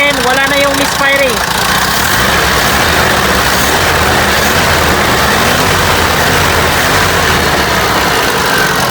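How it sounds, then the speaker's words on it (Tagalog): Carbureted car engine held at a steady rev, running smoothly and evenly without misfires, loud and close throughout, with a voice talking briefly at the start. "Tapos pag i-rev natin, wala na yung misfiring."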